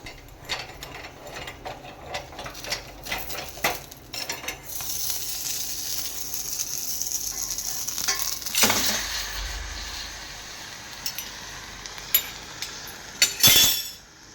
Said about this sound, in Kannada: ಇದರ ಜೊತೆ ಒಂದು ಬೆಳ್ಳುಳ್ಳಿಯನ್ನು ಕೂಡ ನಾವು ಒಗ್ಗರಣೆಯಲ್ಲಿ ಹಾಕ್ತೇವೆ